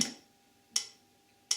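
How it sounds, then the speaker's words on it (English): A metronome set to 80 beats per minute ticks three times at an even pace, each click crisp and quiet, with nothing else playing. "if we set a metronome going, it sounds like this"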